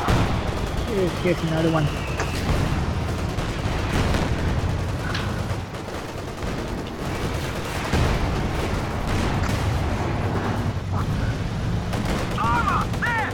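Gunfire and artillery roar through a Company of Heroes 2 battle, with steady shooting, booming blasts and rumbling mixed into a loud, dense wall of combat noise, and a voice speaks briefly.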